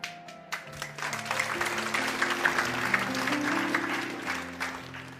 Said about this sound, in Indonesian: Ini tepuk tangan setuju atau apa ya?